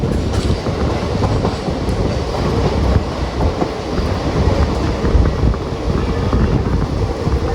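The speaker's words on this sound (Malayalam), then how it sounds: "ഇപ്പോൾ നമ്മൾ വടകര റെയിൽവേ സ്റ്റേഷനിലേക്ക് കയറുവാണ്" The Mangaluru Central–Chennai Egmore Express rolls into Vadakara railway station, a loud close rumble with rhythmic clickety-clack of wheels and wind buffeting the microphone, continuous with no talk.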